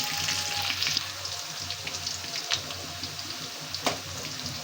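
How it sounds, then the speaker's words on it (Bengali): Potatoes frying in a pan of oil for a home curry, a continuous close sizzle with light crackles and a few soft scrapes of stirring, no voices. "এই তো প্রথমে আমি আলুটা সুন্দর করে একটু ভেজে নেই।"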